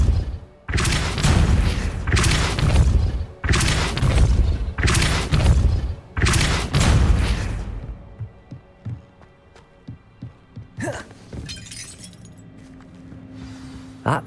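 Depulso spell cast in the video game Hogwarts Legacy: a series of loud, heavy thumping bursts in steady rhythm, followed by quieter clattering and a faint rumble.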